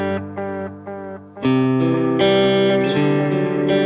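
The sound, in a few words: BOSS DD-500 analog dotted eighth delay with modulation and reverb on guitar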